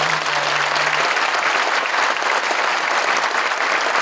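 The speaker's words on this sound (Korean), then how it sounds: "박수를 쳐주세요." A church congregation claps loudly and continuously at a pastor's installation and retirement honoring service, a dense, even roar of hands filling the hall.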